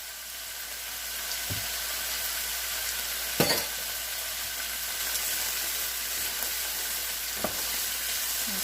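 Shepherd's pie filling fries in a pan with a steady close sizzle, while a spoon stirs it with a few louder scraping knocks against the pan.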